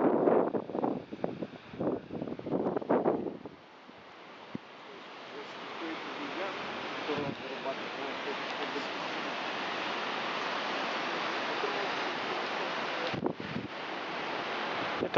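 Sea surf with white foaming waves along an Anapa embankment on a windy, snowy January day; a steady broad roar of wind and surf fills most of the clip, following a few seconds of voices at the start.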